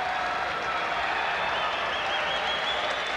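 A boxing crowd at a 1989 professional bout applauds and cheers steadily between rounds, a dense continuous roar of clapping and voices at moderate distance with no pause.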